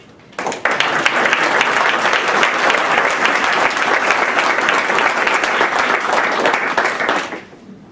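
Sustained audience applause fills a room at an alumni association awards reception, starting abruptly, holding steady and loud for several seconds, then fading out with no voices on top.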